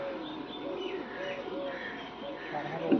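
Soft, low cooing of a female pigeon on a rooftop, repeated in gentle murmuring phrases, faint and close amid quiet background.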